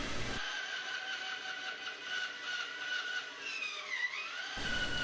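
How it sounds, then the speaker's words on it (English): Bandsaw with a dull blade cutting hard Spectraply laminated wood, a steady whining hum with a thin tonal ring that bends in pitch as the blade bogs and recovers, heard fairly quietly with no talk. "I tried to cut up the Spectraply on the bandsaw, but my blade is really dull, and this stuff is actually really hard."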